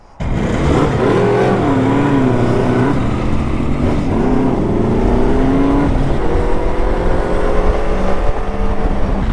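Yamaha Fazer motorcycle engine while riding, loud and close, with rising and falling revs through several gear changes over continuous wind and road noise.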